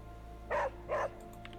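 A dog in the video game Midnight Suns gives two short, clear barks in quick succession over a low game hum, followed by a couple of faint softer yips.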